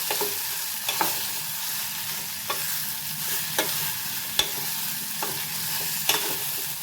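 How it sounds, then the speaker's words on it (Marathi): Onion-coconut masala paste sautéed in a pan, a steady hissing sizzle punctuated by regular spatula scrapes and taps roughly every second, close up with no voices. "एक मोठा चमचा भरून मी वाटण घेतलेलं आहे परतून घेऊया"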